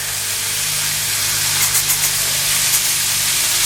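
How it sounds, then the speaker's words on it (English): Green, orange, red and yellow peppers with a jalapeño sizzle steadily in a pan, a continuous close hiss with a few brief louder crackles partway through. "Sauteing your veggies."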